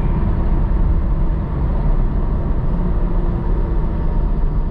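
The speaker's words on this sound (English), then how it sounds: "A little downshift." A tuned BMW 640i Gran Coupe downshifts while driving, its engine giving a dense, even roar with a brief dip and surge in the cabin.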